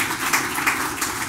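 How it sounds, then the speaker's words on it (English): A tech-talk audience claps for the speaker in a brief, busy burst of applause at moderate level. "let's give Michael a round of applause"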